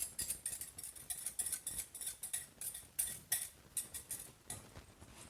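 A utensil scrapes sweet and sour sauce with pineapple out of a bowl, making a quick run of light, rhythmic clinks and scrapes, close and quiet, with no talk.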